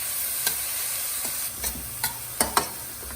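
Two green chilies sautéing in a pan, a steady soft sizzle of frying with occasional sharp stirring clicks and scrapes scattered through, close and alone with no voices.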